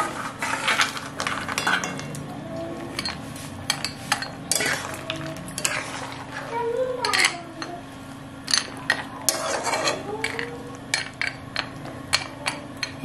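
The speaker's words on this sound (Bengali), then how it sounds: "এরপর আমি যে ভেজে রেখেছিলাম সে ভেজে রাখা এগুলো আমি দিয়ে দেব।" Fried vegetables for Bengali sukto are tipped into a pot, giving a run of close metallic clinks and scrapes, stirring rattles and faint sizzling over a steady background hum, with no talk.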